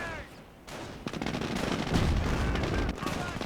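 Gunfire and artillery blasts in the World War II strategy game Company of Heroes, a rolling barrage of shots and booms building in loudness across the battle, with faint voices mixed into the din.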